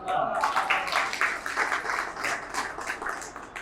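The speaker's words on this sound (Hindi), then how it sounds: "ये आपकी ताली उसी कवि को जाएगी" An audience at a Hindi kavi sammelan poetry recital claps steadily throughout, a dense, close wash of applause that swells and dips without pause.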